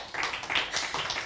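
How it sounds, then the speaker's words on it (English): An audience applauds at an evening talk on the poet John Ashbery, with faint, dense patter of many hands clapping steadily at a distance in an indoor hall. "Can we have a round of applause?"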